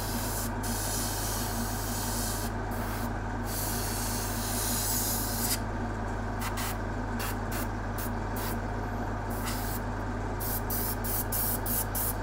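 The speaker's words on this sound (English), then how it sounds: "Do generalized spray at the bottom." A steady hiss of aerosol spray paint on miniature wargame terrain bulkheads, with short bursts starting and stopping in an irregular rhythm over a constant low hum.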